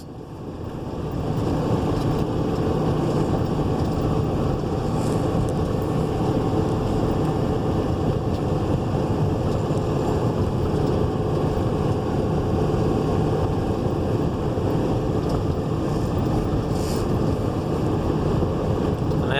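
A 2014 Dodge Ram 5500 diesel 4x4 rollback flatbed cruises at highway speed, heard as a loud, steady broadband roar of road and wind noise that holds unbroken from start to finish with no talking.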